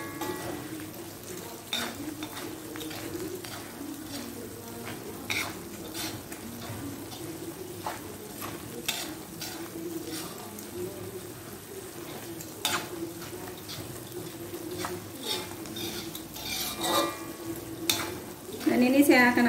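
Grated coconut frying and being stirred in a pan for ayam serundeng, with a steady close sizzle, scraping utensil sounds throughout and a louder burst of sizzling near the end.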